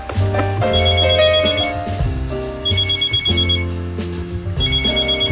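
A mobile phone ringtone plays a loud, continuous musical melody with repeating tonal phrases throughout, no talking over it.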